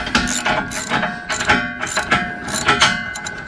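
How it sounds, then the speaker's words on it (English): A ratchet removing nylon lock nuts from bolts on a CJ3B Jeep, giving loud, close bursts of rapid clicking in a repeated rhythm of about a dozen strokes. "instead of boring you here by taking these nylon lock nuts off"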